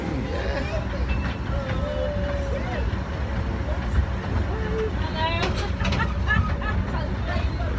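A train rolls past in Scarborough with a steady rumble and rattle of rail cars, while children and adults chatter over the noise.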